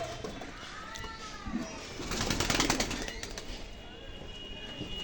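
Pigeons sunning themselves outdoors, with soft cooing and a brief burst of wing flapping midway, amid general outdoor ambience.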